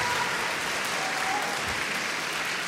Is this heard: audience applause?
yes